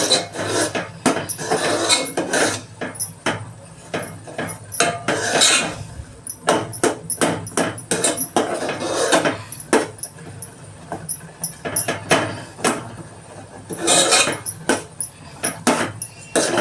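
Jaggery being stirred into coconut rice pudding in a pot, a spoon scraping and clinking against the metal in irregular, close bursts of knocks and rasps.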